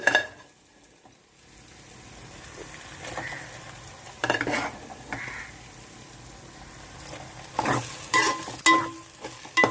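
Cauliflower fried rice being stirred and fried in a pan after the ginger has browned, with soft scraping strokes and a low sizzle, some louder clattering stirs toward the end, no voices.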